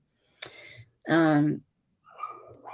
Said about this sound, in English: if she keeps barking, I'll go give her a treat or something